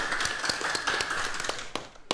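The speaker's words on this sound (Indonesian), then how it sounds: "Sekali lagi tepuk tangan yang meriah untuk kita semuanya." Audience applause at a televised Banyuwangi stage show, a moderate patter of scattered claps with a few sharper individual hits, heard somewhat distant under a faint steady tone.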